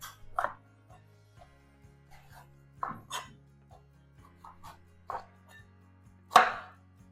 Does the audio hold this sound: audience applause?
no